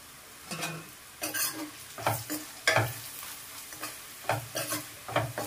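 Bitter gourd and coconut fry with turmeric and fenugreek, stirred in a pan on the stove: repeated close scraping strokes of a spatula against metal at an irregular rhythm, over a light sizzle.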